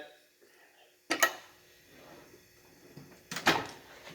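A bottom drawer of a tool cabinet in an equipment rental store slides open with two sharp rattling slides a couple of seconds apart, fairly close, with faint background noise and no clear talk.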